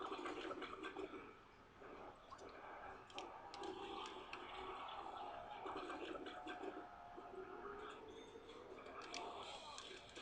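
A toilet flushes in the Call of Duty Nazi Zombies map Verruckt, sending a continuous gurgling rush of water through the whole stretch at a fairly faint level.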